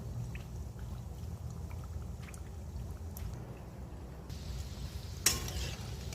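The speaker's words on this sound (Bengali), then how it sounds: "লাল লালভাবে ভাজা হবে" Labanga latika pastries bubble and sizzle steadily in oil, a low, continuous crackle, with a brief clink of a utensil near the end.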